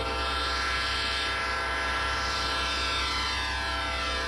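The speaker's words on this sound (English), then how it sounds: "When a train is coming to a crossing" A train rumbles steadily toward a railroad crossing near Northville, Michigan, with a loud, continuous broadband roar and droning tonal hum filling the whole clip, no talk.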